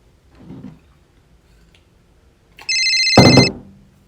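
A soft thump, then a bright electronic phone ring sounds once, loud and close, in an otherwise quiet room.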